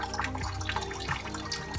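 Coolant water runs and splashes steadily out of an IMT tractor radiator as it is drained, a continuous close trickling and pattering with small irregular splashes.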